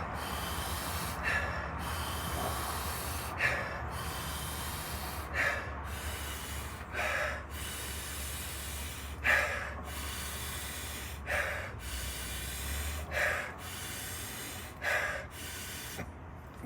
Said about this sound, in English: Close your eyes. Inhale. Smile. Inhale. Inhale.